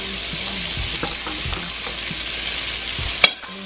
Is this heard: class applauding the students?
no